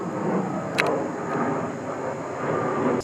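An airplane passes overhead above an outdoor trail, a steady, broad distant roar that holds at an even level for about three seconds, with a couple of faint brief clicks from nearby.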